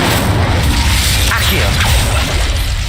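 A fire spell is cast in Hogwarts Legacy, giving a dense, roaring whoosh and booming burst over continuous game noise and low rumble, with a swishing sweep partway through.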